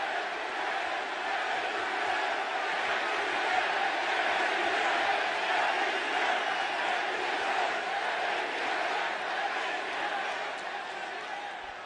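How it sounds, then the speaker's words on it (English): A wrestling arena crowd roars continuously at a Roman Reigns and Braun Strowman event, a dense, loud wash of cheering and shouting from many voices that holds steady and eases slightly near the end. "This crowd is alive."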